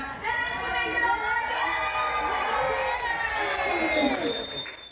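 A cruise ship crowd cheers and shouts loudly and continuously at a toddler crawling race, with excited voices whooping together.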